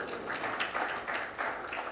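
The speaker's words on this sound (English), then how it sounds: "You can applaud if you're from Columbus." Audience applause at a symposium announcement, a short, fairly faint round of clapping from a modest crowd, heard at some distance and fairly even throughout.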